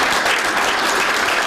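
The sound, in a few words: applause for firefighters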